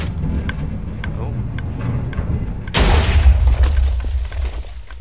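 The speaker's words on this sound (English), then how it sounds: "the minimum number of TNT minecarts you can use is 3, or you won't get a very good explosion" A TNT minecart explosion in the Minecraft video game erupts as a sudden loud blast about midway, then a dense rumbling roar follows. Quieter game noise and faint ticking precede it.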